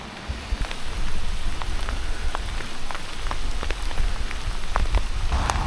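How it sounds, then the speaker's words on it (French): Steady rain pattering on a surface outdoors on a cold morning, a dense continuous wash of drops with scattered sharper taps, fairly close and uninterrupted, no voices. "T'as vu, il pleut."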